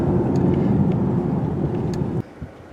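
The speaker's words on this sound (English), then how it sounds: "That turbo makes a nice whining noise on full acceleration." A 2021 Mazda CX-9 with a turbocharged engine accelerates hard, giving a steady, loud engine drone with turbo whine heard from inside the cabin that cuts off abruptly near the end.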